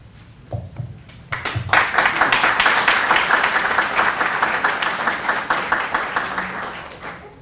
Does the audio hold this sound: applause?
yes